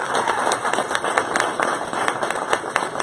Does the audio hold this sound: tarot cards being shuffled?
no